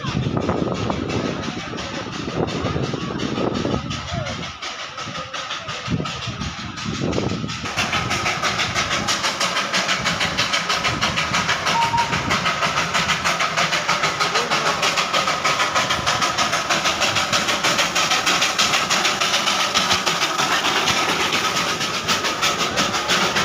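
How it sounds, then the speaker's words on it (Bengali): The Darjeeling toy train runs through the Batasia Loop, a steady rolling rumble with rhythmic wheel clatter that grows fuller and louder partway through and continues without a break; faint voices in the background early on. "টয় ট্রেনটা এখন বাতাসিয়া লুপে এন্ট্রি করছে।"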